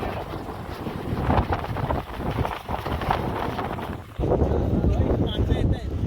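Steady, gusty wind buffets the microphone on a foggy Konkan hilltop at Machal, Lanja, a broad roaring rush that swells and drops and fills the whole clip.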